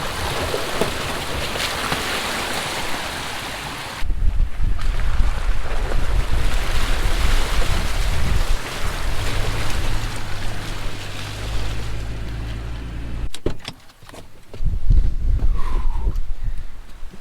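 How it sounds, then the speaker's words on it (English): Strong wind gusts roar against the microphone beside a lake on a fall trout fishing trip, loud and continuous with brief lulls, mixed with rushing water and a short drop near the end. "The wind has picked up a little bit, which is not my favorite"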